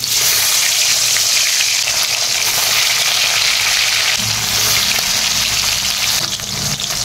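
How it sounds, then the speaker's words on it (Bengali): Japanese puti fish frying in hot mustard oil in a kadai: a loud, dense, unbroken sizzle that thickens with a deeper bubbling undertone partway through, and no one speaks. "তেল গরম হয়ে গেছে, আমি মাছগুলো কড়াই দিয়ে দেব।"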